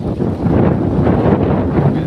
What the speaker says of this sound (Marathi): वारं पण सुटलंय